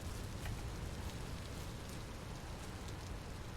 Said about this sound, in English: Way foggy and rainy.